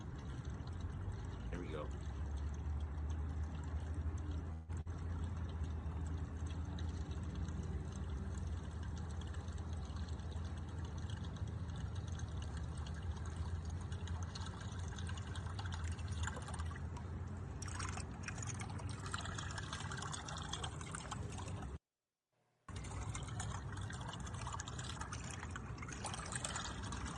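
A small fishing lure with a spinning blade beats and rattles underwater, heard through a hydrophone as a dense, steady churning wash with watery trickling tones, continuous and fairly loud apart from a brief dropout near the end.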